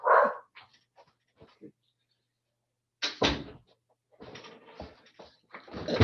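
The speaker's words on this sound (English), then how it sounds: "my dog is letting us all know that the mailman's here" A dog barks at the mailman indoors, a loud opening bark followed by scattered smaller yelps, then a renewed burst of several sharp barks after a short quiet gap.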